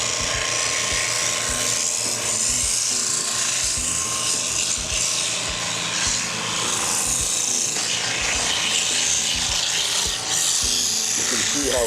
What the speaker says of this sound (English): Now when I sand it, I start with the 60 grit. This is very, very rough. And I start sanding it